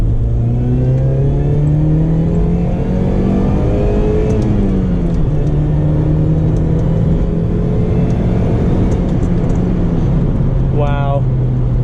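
A 2004 Saturn Ion Redline accelerates in second gear from a roll, its supercharged engine droning steadily and rising in pitch over a loud, continuous rumble, with a voice briefly heard under the engine noise.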